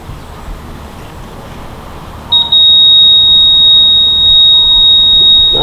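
Laser level receiver used for grading a paver patio emits a steady high-pitched continuous beep, starting partway through and holding to the end over quiet outdoor background.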